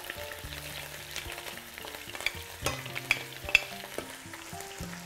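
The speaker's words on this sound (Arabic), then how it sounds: "ونخليه يبتدي يكمل يتحمر هو كمان مع اللحمة" Onion and garlic fry together with meat in a pan, a steady quiet sizzle with a few sharp crackles and spatters rising near the end.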